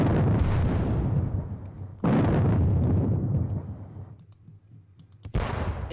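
Deep booming artillery blasts from a war video game, each a sudden loud thud rolling into a long decaying rumble, with three shots spaced a couple of seconds apart and faint clicks between.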